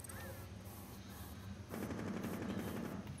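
Automatic rifle fire in the video game Rainbow Six Siege, a dense sustained burst that grows louder partway through, with faint game sounds underneath.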